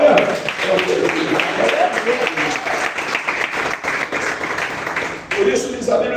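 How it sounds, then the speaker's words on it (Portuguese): A church congregation breaks into sustained applause in victory clapping, a dense, fairly loud wash of hands that dips briefly before swelling again, with voices mixed into it. "Palmas de vitória."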